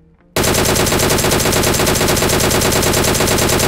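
Machine gun in PUBG Mobile bursts in after a brief quiet moment, then fires continuously in a rapid, loud, unbroken stream.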